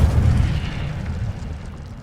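An Incendio fire spell bursts with a deep, rumbling blast in Hogwarts Legacy, heavy and low at first, then fading into a crackling, dying roar over two seconds.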